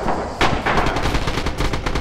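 Gunfire in the WWII shooter Red Orchestra 2, a loud, close string of rapid shots and echoing reports filling two seconds with no break.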